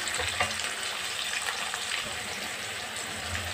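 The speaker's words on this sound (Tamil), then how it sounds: "ஆனியன் கொஞ்சம் நல்லா ஃப்ரை ஆகட்டும்" Onions sizzle steadily in a pan of hot oil during home cooking of goat intestine curry, a constant broadband frying crackle that runs without a break.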